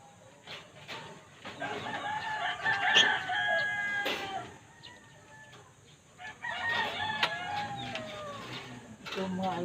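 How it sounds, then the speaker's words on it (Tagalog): Pet African birds kept in a backyard give repeated loud, harsh calls and crow-like cries, close by, with rustling and some background voices in between. "Itong mga alaga ko mga African bird."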